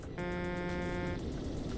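A truck horn in Euro Truck Simulator 2 gives one steady, loud, close blast lasting about a second, then cuts off, leaving engine and road rumble underneath.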